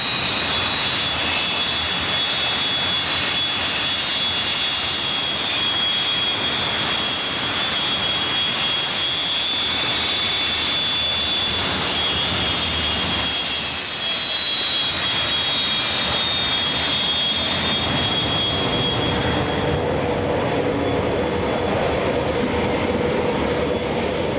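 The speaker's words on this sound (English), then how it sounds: "Not with 4 Strike Masters, but for the first time with 4 Hawker Hunters." Hawker Hunter jet aircraft of Team Viper fly a display at a Scottish airshow, a loud sustained jet engine roar with a high whine that swells and then fades, with no talking.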